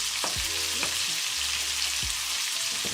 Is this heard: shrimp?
yes